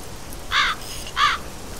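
In The Black Mirror 2 video game, a crow gives two short, clear caws about half a second apart, standing out distinctly against a quiet ambient background.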